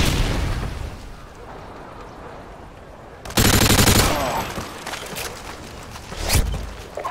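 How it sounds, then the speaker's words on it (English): Stun grenade thrown during a Modern Warfare 2 match: after a few seconds of low battle rumble, a sudden loud broadband blast hits and sustains briefly, followed by scattered gunfire-like bursts and another sharp crack. "Throwing stun grenade."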